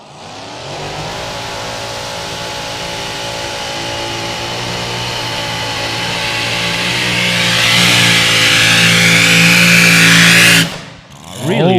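A mini modified class pulling tractor, the Wild Popeye from Denmark, roars at full power in a long, loud, steadily building engine drone that climbs in pitch before cutting off abruptly near the end.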